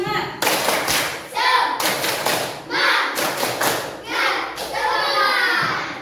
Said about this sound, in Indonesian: Ya, tepuk semangat dulu. Tepuk semangat.